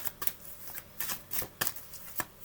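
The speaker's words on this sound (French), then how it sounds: "je mélange les cartes tout en vous parlant" A deck of tarot cards being shuffled by hand in a quiet room, with soft riffling bursts and sharp snaps recurring irregularly, close and fairly quiet, with no one talking.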